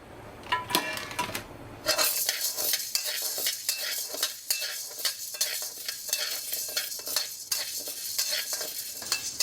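Chana dal dry-roasts in a pan for a homemade coriander masala powder: a continuous close scraping and rattling of stirring, with gritty lentils skittering against the metal and a faint sizzle throughout.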